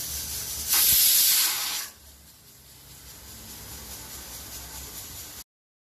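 A pressure cooker of mutton vents steam in a loud, broad hiss for about a second, then settles into a steadier, quieter hiss that runs on until the sound cuts off.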